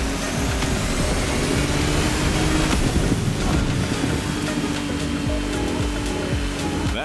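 Racing boats in the video game The Crew Motorfest speed across water, a steady, loud wash of spray and rushing surf with wind noise running unbroken throughout.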